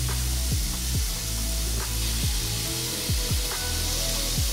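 Ground beef with onion frying in a pan, a steady loud sizzle with the repeated scrape and knock of a wooden spoon breaking up the meat, no talking.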